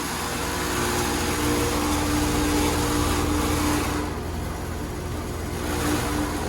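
Loud, unbalanced 2018 Carrier Performance Series 4-ton central air conditioner outdoor unit, a steady close droning roar with a faint constant hum running throughout.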